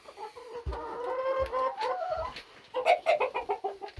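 Backyard chickens cluck and squawk close by while being rounded up for the evening. A burst of calls comes first, then a rapid run of short clucks.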